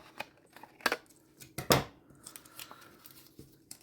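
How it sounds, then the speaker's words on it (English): Scissors snip through paper pieces during mixed media crafting, a few quick sharp cuts close by with soft paper rustles between, quiet with no talk. "I'm going to trim these pieces off."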